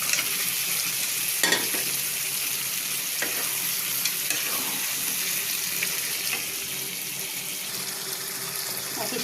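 Country chicken pieces added to a pan of spiced masala paste of turmeric and chili, sizzling and frying steadily with stirring scrapes throughout, close and fairly loud with no talking.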